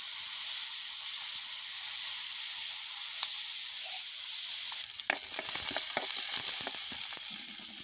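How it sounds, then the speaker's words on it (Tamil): Onions and chillies fry with a constant hissing sizzle, then fennel seeds go in and clattering stirring noises break in partway through, close up. "வெங்காயம் மிளகாய் எல்லாம் நல்லா கொதிக்குது"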